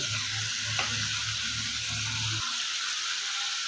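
Tomato halves sizzling in a hot karahi of chicken for a street-style Peshawari charsi karahi, a loud dense hiss with a low bubbling rumble that drops away sharply near the end.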